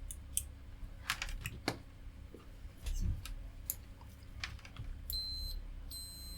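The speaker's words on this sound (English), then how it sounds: "continuous bleep in the ohms range." A multimeter in continuity mode gives a high, steady electronic bleep near the end, after scattered light clicks and taps from handling the probes. No one speaks.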